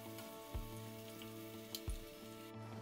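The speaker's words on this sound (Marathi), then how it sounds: "तर एकाच वेळी इथे मी 5 पुऱ्या ज्या आहेत त्या तळून घेते." Five spicy salted puris (tikhat mith puri) frying together in hot oil give a steady, dense crackling sizzle with a few soft bumps, and no one talks.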